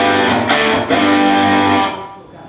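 A Vox guitar amplifier in pentode mode in the Vox room at Musikmesse 2010 plays loud, thick distorted chords with rich sustain, a brief break near the half-second mark, then rings out and fades toward the end.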